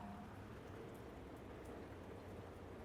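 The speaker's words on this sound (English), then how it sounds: "it is really raining" Heavy rain falls in a steady, dense hiss, faint and continuous, with no voices.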